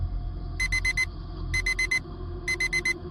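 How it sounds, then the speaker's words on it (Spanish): An alarm clock ringing in a quiet bedroom, sounding three sharp bursts of rapid high electronic beeps at a steady rhythm, each about half a second long, over a faint low background hum. "con el sonido de la alarma irrumpiendo en mi tranquila habitación"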